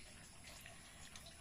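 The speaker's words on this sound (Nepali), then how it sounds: "लबडाँडाको पानी हो नि त जङ्गलको मूलको पानी" Forest spring water running from a tap in Chitwan, a faint, continuous splashing flow with no voices.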